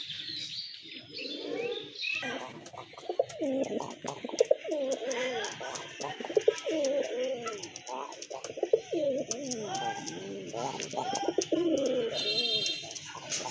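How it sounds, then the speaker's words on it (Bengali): Pigeons, including white-breasted Rajgolla pigeons, coo and chirp steadily throughout, with overlapping soft throaty calls and occasional sharper notes close by. "আরেক জোড়া কবুতর এটা হচ্ছে আপনার বুক সাদা রাজগোল্লা কবুতর"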